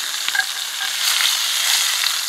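Catfish frying in a pan over a campfire, giving a bright, steady crackling sizzle with small pops and spits throughout, close and fairly loud with no talking.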